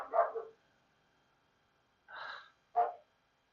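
A dog barks indoors at a moderate distance, giving three distinct barks: a doubled bark, then after a pause, two more single barks in close succession.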